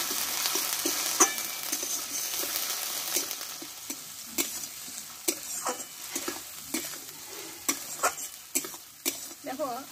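Ginger-garlic paste and a large tomato sautéing in a pan, a steady close sizzle broken by frequent scraping stir strokes, with no talking.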